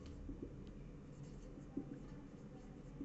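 A teacher writes a cost sheet on a classroom board, producing soft, close scratching strokes with a few sharper taps of the marker or chalk across three quiet seconds, with no speech.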